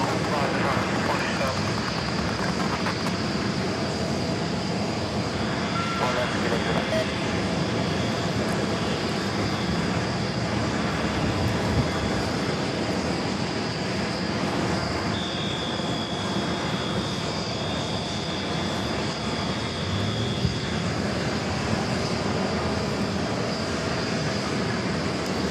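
A Boeing 757-200 airliner departing JFK airport, a steady, broad jet engine roar with a thin whine on top that holds for the whole span from a distance, while someone talks over it.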